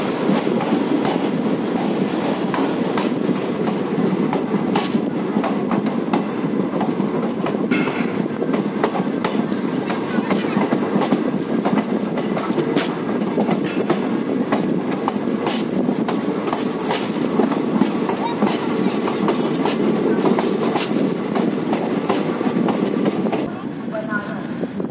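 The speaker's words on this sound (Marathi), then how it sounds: "ट्रेन निघाली आहे पुणे जंक्शनवरून" Koyna Express running on rails after leaving Pune junction, a loud continuous rumble with rhythmic clicking of wheels over rail joints and occasional squeals, heard from inside the train throughout.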